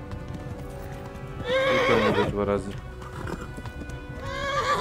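A horse in Kingdom Come: Deliverance whinnies loudly in a rising, quavering neigh amid rhythmic hoofbeats, then whinnies again, with someone talking over it.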